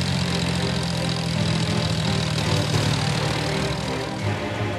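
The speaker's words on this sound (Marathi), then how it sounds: "पिकांमध्ये थेट ट्रॅक्टर घालण्याचा सपाटा लावलाय" A tractor's engine chugs steadily and loudly as it is driven through damaged standing crops on a farm in Jalna, a continuous mid-to-low rumble with no talk over it.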